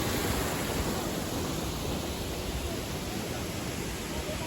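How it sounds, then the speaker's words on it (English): Steady, broadband roar of a tall main waterfall at a Miao village in Hunan, a continuous rushing wash of falling water with no letup, loud and close, with no voices over it. "Yeah, so this is the waterfalls, the main one."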